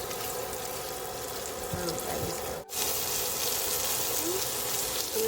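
Breaded chicken for a buffalo chicken sandwich fries in hot oil in a pan, a steady broadband sizzle that drops out for an instant and returns, with a few light clinks and a short word spoken over it.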